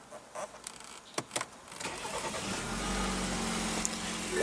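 2016 BMW X3 2.0 L twin-turbo inline four-cylinder firing up by push-button start: a couple of clicks, then the engine catches and settles into a steady, fairly quiet idle nearby, no talking.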